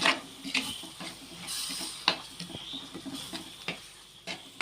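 A curry base for fish curry is stirred and sautéed in a pan. A soft sizzle runs beneath a series of close, irregular spatula clicks and scrapes, with no talking.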